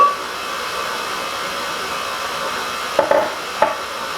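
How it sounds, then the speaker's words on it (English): A stand mixer kneads white bread dough with a steady, continuous motor whir. A few brief knocks come near the end and no one speaks. "I'm going to let the mixer knead this dough for about 6 to 7 minutes."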